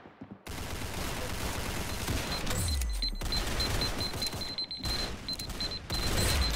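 Sustained video game gunfire on hard mode, dense bursts and booms filling the whole stretch loudly, with a repeating high beep and a deep rumbling blast near the middle.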